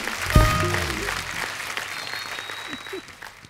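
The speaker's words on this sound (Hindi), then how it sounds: "जोरदार तालियां एक बार राज सर और जया मैम के लिए।" Audience applause greeting two guests arriving on a Hindi TV chat-show stage, a dense crowd clapping that starts with a sharp burst and continues steadily before slowly thinning out.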